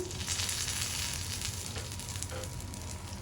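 Samai adai, a millet pancake, sizzling steadily on a frying pan, a continuous close frying hiss throughout with no voices.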